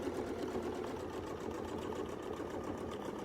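A sewing machine quilts a border using a Westalee ruler template, its motor running in a steady, rapid stitching rhythm at moderate loudness with no break.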